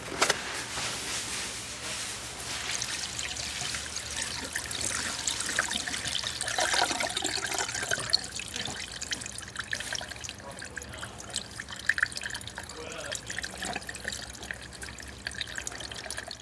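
Water running steadily into a container for a gallon of car wash mix, a continuous trickling, pouring rush that swells then settles, moderately close and without talk.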